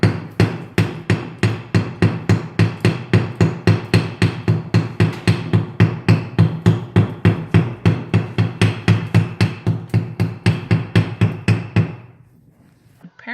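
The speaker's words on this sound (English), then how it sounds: "we used a hammer to break away some of the high points where the rocks connected" A hammer strikes aquarium rocks in fast, steady repeated blows, dozens of sharp loud impacts for about twelve seconds, breaking off the high points where the rocks meet, then stopping abruptly.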